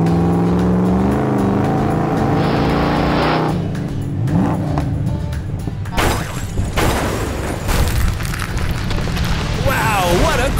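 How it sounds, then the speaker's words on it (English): A toy blue truck revs like an engine, then crashes in a burst of loud, noisy impacts and rattling, with the racket going on steadily throughout. "Wow, what a crash!"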